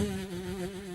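A voice imitates a buzzing housefly, a steady wavering drone that holds close and clear for about a second without any words.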